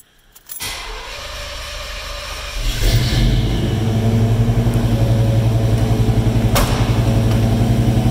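A starter cranks briefly, then a 1987 Chevrolet K5 Blazer 4x4 engine catches and settles into a loud, steady rumbling idle close by.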